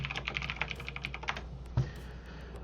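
Rapid clicking of keys on a computer keyboard during an online tabletop role-playing session, a quick irregular burst of close taps that stops partway, followed by a single soft thump and quiet room noise.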